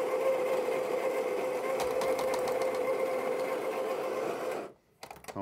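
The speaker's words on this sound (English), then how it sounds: "You see how it grinds into our portafilter there." A Baratza coffee grinder grinds into a portafilter with a steady, loud motor whir and a droning hum, then cuts off abruptly near the end, leaving a few faint clicks.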